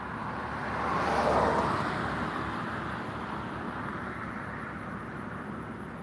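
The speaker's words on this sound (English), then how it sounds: "I hear a car coming." A car approaches on a road near Scape Ore Swamp, a soft broadband rush swelling gradually then fading, heard from inside a parked vehicle against steady ambient hiss.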